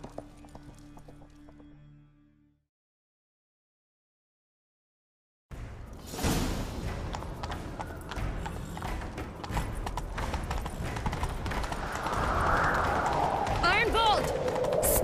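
A horse galloping in The Witcher 3: Wild Hunt, its hooves clip-clopping steadily and growing louder after a short silence, with game ambience and whooshing around it.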